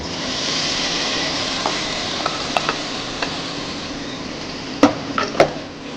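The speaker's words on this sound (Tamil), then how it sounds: "லேசாக ஒரு கிண்டிட்டு" A spoon stirring sweet pongal with raisins in a pot gives a few sparse clinks and scrapes over a steady low hiss, with a cluster of sharper knocks near the end.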